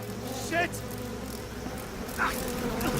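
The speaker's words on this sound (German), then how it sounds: "Zu viele Heuschrecker, ja." Grasshoppers buzz in the forest of the horror game Outlast 2, with two short raspy chirring bursts rising over a dense, steady insect drone and low background hum.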